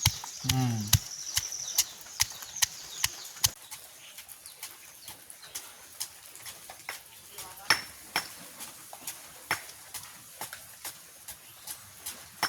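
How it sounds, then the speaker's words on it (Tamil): Small onions pounded in a mortar in a village kitchen, a series of sharp thuds struck at an uneven, roughly one-per-second pace, close up over quiet background. "வெங்காயத்தை சேர்த்து நல்லபடியாக இடிப்போம்"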